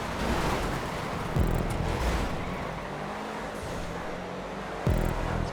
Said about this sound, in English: Nightshark's actually quite fun to race with.